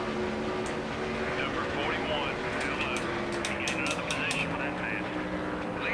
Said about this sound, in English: I'm pushing my engine as high as I can on RPMs, essentially.